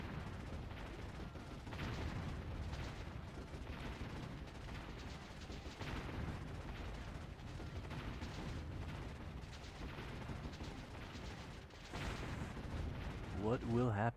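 Mortar fire rumbles through a real-time strategy battle between walled-in troops, dense and continuous, with booming impacts and crackling gunfire blending into a steady, loud wash for the whole stretch.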